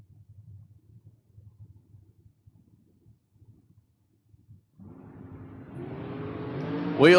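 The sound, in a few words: drag race: Wolfpack Race Camaro versus American Chassis dragster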